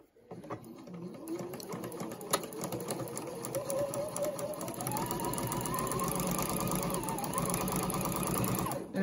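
A sewing machine runs steadily, stitching a quarter-inch seam on patchwork quilt pieces, with a continuous close whirring hum that holds at a fairly even pace for several seconds.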